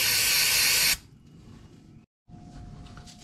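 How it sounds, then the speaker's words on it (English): A strong, steady spray hisses for about a second onto the rear gearcase of a Polaris Sportsman 570 to remove dirt, then cuts off, leaving quiet rustling and handling noises with a brief silent gap. "We're gonna spray this side and just get rid of some of that dirt."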